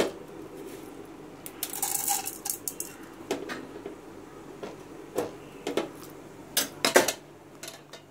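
Urad dal tipped into a pan for tempering a potato masala: scattered small ticks and clinks of hard grains striking metal, sparse and irregular, with a faint sizzle underneath and no talking.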